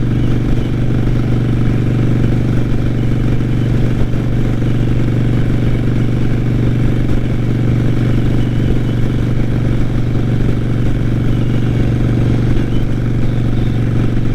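A Harley motorcycle cruises on a freeway in fifth gear at about 60 mph, a loud, steady low engine drone with constant wind rush, unbroken throughout, with no speech.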